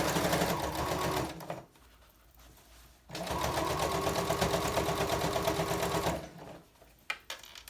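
A sewing machine stitches bias tape onto a quilted placemat, running in two steady, close whirring bursts separated by a short pause, with a few light clicks at the end.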